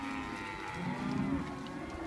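Brangus heifers moo in a pasture: one long, low, drawn-out bellow that fills the moment, close and fairly loud, with no talking.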